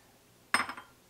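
Coffee splashes into a pot of chili already holding beef broth and tomatoes, a single short pour of about a quarter second that stands alone in a quiet kitchen.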